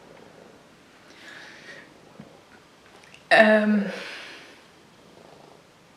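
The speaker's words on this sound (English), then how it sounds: "And you're purring so loudly." A cat purrs softly and steadily up close, then lets out a louder burst of purring or a grunt partway through, with a brief spoken word in the background.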